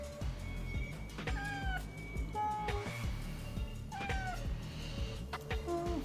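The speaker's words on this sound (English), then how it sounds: "Such a cute kitty." A pet cat named Nina meows several times in short, rising and falling calls, close to the microphone over a steady low background hum.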